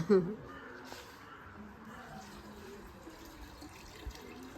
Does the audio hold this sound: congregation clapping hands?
no